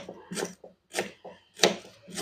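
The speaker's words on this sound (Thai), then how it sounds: "หั่นตะไคร้หั่นฝอยซะก่อน" A knife chops lemongrass finely on a wooden cutting board in three distinct bursts of crisp, slicing cuts with short pauses between, close and alone.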